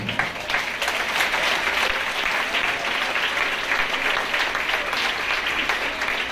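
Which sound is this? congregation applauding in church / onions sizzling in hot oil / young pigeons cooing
congregation applauding in church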